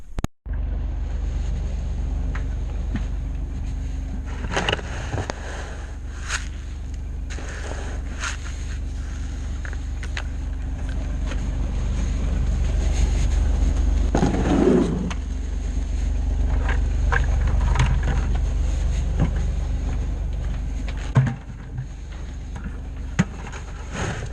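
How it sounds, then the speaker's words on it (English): A John Deere tractor drives out on a farm to fill a calf creep feeder. Its engine rumbles low and steady throughout, with occasional clanks and rattles and no voices. "we're gonna take the John Deere and we're gonna go fill the creep feeder right now for the calves"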